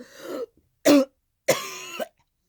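Several harsh coughs and throat-clearing bursts, close and loud, separated by short silences.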